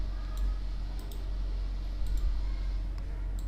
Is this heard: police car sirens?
no